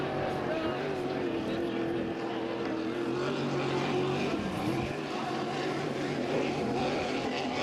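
An H350 hydroplane racing powerboat drones steadily across the water during Valleyfield time trials, a continuous engine roar with a slightly shifting pitch, heard at a distance under commentary.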